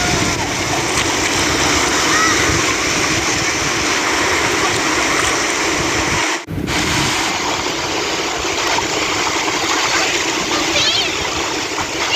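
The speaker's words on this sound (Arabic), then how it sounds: "وفي جزء كده سايباه بصوت البحر بحيث برضو تستمتعوا كده معانا" Sea waves washing onto a beach make a loud, steady roar of surf and splashing water, continuous throughout apart from one brief dip.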